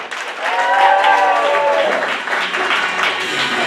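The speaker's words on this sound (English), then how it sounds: "start the applause" Comedy club audience applauding to welcome a comedian to the stage, loud dense clapping with crowd noise swelling and sustained throughout, a voice calling out briefly near the start.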